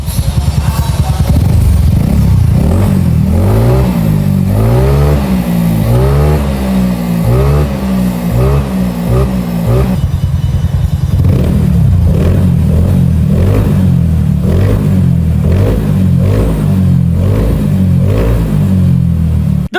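A motorcycle engine revs hard in repeated rising bursts, loud and close, then settles into a steady high idle with throttle blips.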